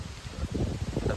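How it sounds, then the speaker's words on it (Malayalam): Wind on a hilltop buffets the microphone in uneven low gusts and rumbles, close and fairly loud, with no voices over it. "നല്ല കാറ്റാണ് ഇവിടെ."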